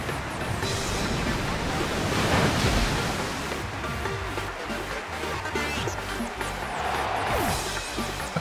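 Surf water attack from the Pokémon Sword and Shield battle game: a steady, loud rushing wash of crashing water and surf noise that swells midway and continues throughout, with no talk.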